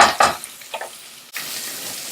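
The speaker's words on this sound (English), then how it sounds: "We give it a stir." Whole garlic being stirred in a pan for cauliflower soup: a couple of quick scraping strokes, then a steady close-up sizzle.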